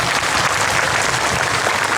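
Loud, dense applause from the audience at a church diamond jubilee celebration, held steady from start to finish.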